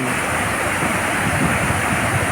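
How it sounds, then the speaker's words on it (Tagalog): Aliwagwag Falls in Cateel, Davao Oriental, a cluster of small cascades, gives off a loud, steady rushing roar of falling water that fills the whole moment without a break. "kumpul-kumpul na mga maliit na falls yan"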